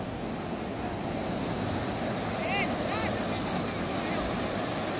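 Fairly large ocean waves at Lhoknga beach near Banda Aceh under an overcast sky, giving a steady broad rush of surf mixed with wind buffeting the microphone.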